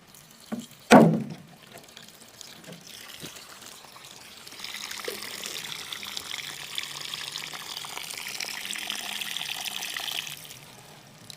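Water trickles steadily from a patched water can after a sharp knock at the start, a soft continuous hiss that swells midway and holds before fading, with no voices.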